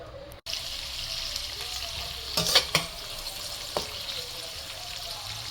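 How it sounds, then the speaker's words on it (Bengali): Nuts and raisins fry in a pan for zarda, giving a continuous close sizzle with a few metallic stirring scrapes, a brief dropout near the start, and no talking. "প্রথমে আমি বাদাম আর কিশমিশটা বেজে নিচ্ছি"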